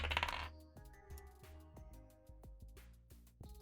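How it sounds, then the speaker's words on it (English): Dice rolled in a visual novel scene, a rapid series of small hard clicks and rattling taps tumbling over about three seconds, close and fairly clear against faint background music. "Holding his breath, he rolls his dice."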